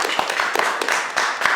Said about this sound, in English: Let's go ahead and give them a round of applause for that.